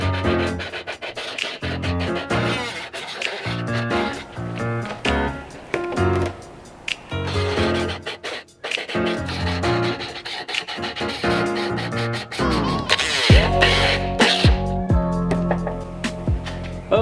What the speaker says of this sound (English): when I cut the edge of the bumper here